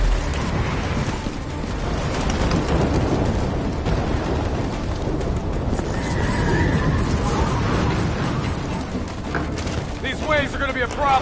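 A storm rages in Call of Duty Black Ops 3, with waves and rain roaring as a dense, continuous wash and a heavy thunderous rumble underneath. Voices talk over it while gunfire-like crackles and mechanical creaks break through.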